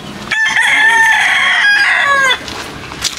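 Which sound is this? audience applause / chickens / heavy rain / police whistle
chickens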